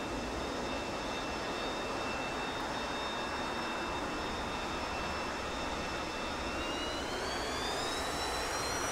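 Continuous loud roar of an F-22 fighter jet engine in a video game as the aircraft lands, a steady broadband rush with faint high whine tones rising slightly near the end.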